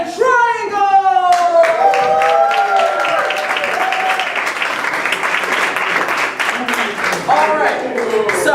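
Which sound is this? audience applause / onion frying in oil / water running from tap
audience applause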